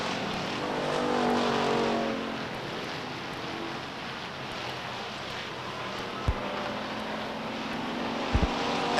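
Stock cars racing at Beech Ridge Motor Speedway, a short oval track, with a steady loud engine roar as the pack circulates and a few sharp transient thumps near the end.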